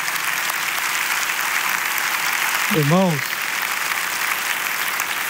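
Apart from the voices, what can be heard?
congregation applauding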